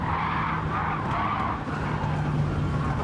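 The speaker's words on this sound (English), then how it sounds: "That's when the tyres start spinning up." Race car tyres spin and skid in Gran Turismo 7, a sustained squealing screech over a steady engine drone, close and fairly loud, with no talk.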